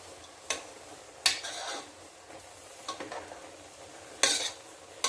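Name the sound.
stirring avial with jackfruit seeds and drumstick in a pan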